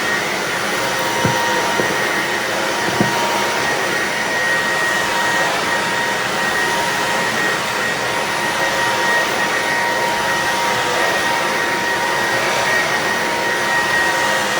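A Bissell PowerClean cordless vacuum runs over carpet to pick up dryer lint, a steady loud whirring motor drone with a high whine that holds without pause, close by and alone.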